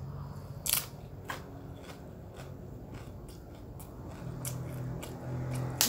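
Kerupuk crackers are bitten and chewed close to the mic, giving sharp scattered crunches and crackles over a low, quiet background.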